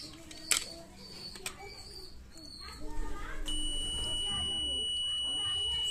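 A repaired digital multimeter set to continuity mode gives a steady, sustained beep that starts partway through and holds to the end, over faint background noise and some room sounds.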